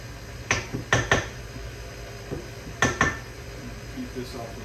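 A spoon stirs chopped pistachios in a bowl for homemade ice cream, making a few sharp clinks and scrapes in small clusters, close and clear, with speech nearby.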